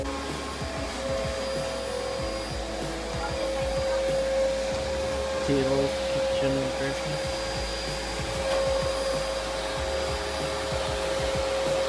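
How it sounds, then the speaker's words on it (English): A vacuum cleaner runs in an old cottage, a steady close-up motor drone that holds unbroken for the whole stretch, with faint brief speech underneath. "My nana's hoovering."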